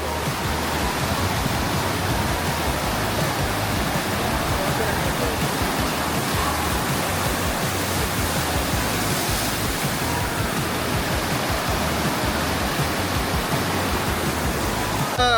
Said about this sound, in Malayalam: ഭയങ്കര പ്രഷറിലാണ് ഈ വെള്ളം വരുന്നത്.